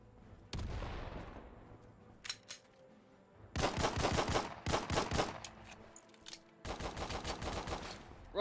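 Gunfire in Battalion 1944, a WWII shooter video game: a single close shot, then two long, rapid automatic bursts separated by short silences, loud and sharp.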